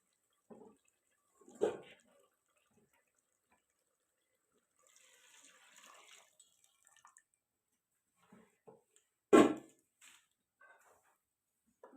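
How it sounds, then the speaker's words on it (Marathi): Hot water is poured into mutton broth for a spicy rassa cooked on a wood-fired stove, giving short splashing pours and scattered drips separated by quiet gaps, one louder splash near the end. "मी आता ह्या मटणाच्या पाण्यातच ते गरम झालेलं पाणी ओतून घेणार आहे"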